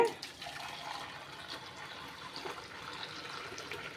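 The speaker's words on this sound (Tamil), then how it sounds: "இப்போ இந்த பொடி கூட நல்ல சூடான தண்ணி சேர்த்துக்கோங்க" Hot water pours steadily into rasam spice powder in a container, a soft continuous splashing trickle with faint background noise throughout.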